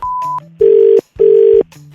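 A telephone call rings on the line with two long, steady ringback tones separated by short gaps, clear and alone, during a radio prank call.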